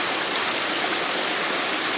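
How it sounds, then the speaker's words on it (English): Loud, steady wash of water sloshing back into a gold pan during gold panning, a continuous close rushing sound with no breaks or voices. "I like to drain it a little and then let the water slip back in there"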